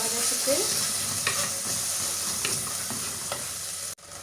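Tomato sauce mixture sautéing in a pan, with a steady close sizzle and fry throughout, broken by a few clinks and scrapes of a spoon stirring, ending in a brief pause.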